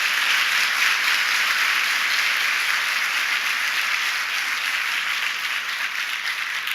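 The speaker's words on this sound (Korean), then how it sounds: "평생을 피스메이커로서의 삶을 올곧게 살아오신 임동원 이사장님께 다시 한번 뜨거운 존경의 박수를" A concert-hall crowd claps warmly for Lim Dong-won at a unification talk concert, a dense and even wash of applause that keeps up from start to finish with no voices.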